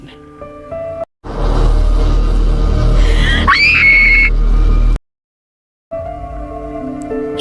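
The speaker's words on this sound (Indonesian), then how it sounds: "suara teriakan pun terdengar" A woman screams loudly and at length in a scene from The Walking Dead, season 10, rising to a piercing pitch before cutting off abruptly, with quieter scene sounds before and after.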